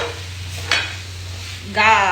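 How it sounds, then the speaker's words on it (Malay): Daikon and mushroom stirred and fried in a pot for kimchi soup, a soft steady sizzle with two brief bursts of stirring scrape, close and alone. "kacau sikit, goreng sikit"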